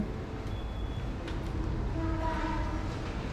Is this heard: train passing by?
yes